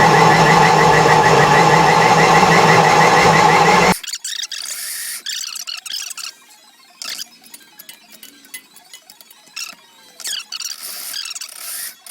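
A blender roars at high speed while blending tomatillo salsa, loud and steady for about four seconds before stopping abruptly, followed by faint clicks and clatter.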